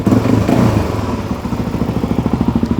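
A Suzuki DRZ motorcycle engine idles nearby with a loud, rhythmic thumping beat, briefly revving at the start before settling into an even, chugging pulse.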